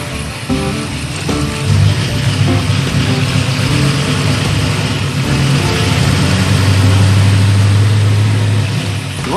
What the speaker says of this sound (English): The motor sounds solid.